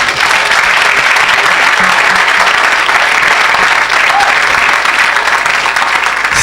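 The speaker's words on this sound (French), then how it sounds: "Quelqu'un acclame le Seigneur." A church congregation at a service in Lille, France breaks into loud, sustained applause with crowd noise, clapping densely and close throughout.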